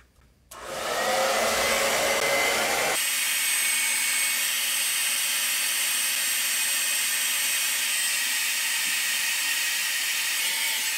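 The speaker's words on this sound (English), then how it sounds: "So a heat gun is going to be a lot safer when it comes to drying your watercolors." A heat gun set to warm and low drying a beginner's watercolor succulent painting switches on and blows with a steady loud whooshing roar that continues without a break.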